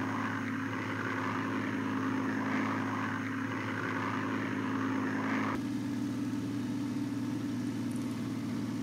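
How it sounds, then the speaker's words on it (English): A WWII-era propeller aircraft engine drones steadily from the cockpit in a flight game set over El Alamein in 1942, a constant close hum that changes tone slightly partway through, with no voices. "There's my aircraft. I'm flying alone for the moment."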